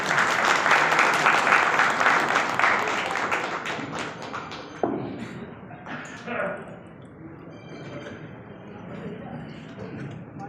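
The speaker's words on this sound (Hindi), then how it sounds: "माननीय अध्यक्ष जोरदार ताली से स्वागत करें" A crowd at a political rally in Samastipur, Bihar applauds to welcome the party president, dense clapping that swells early then thins and fades, with a voice over a loudspeaker partly heard beneath it.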